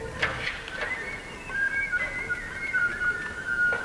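A breathy, airy flute tone played with extended techniques, wavering whistle-like pitches and soft breath noise, in short uneven gestures rather than a clean melody.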